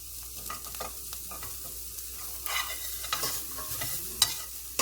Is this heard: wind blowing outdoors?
no